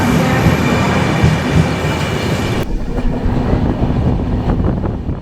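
Loud, steady rumble of the 12370 Kumbh Express running at speed after leaving Bakhtiyarpur, with rattling wheels and a sudden shift in tone partway through.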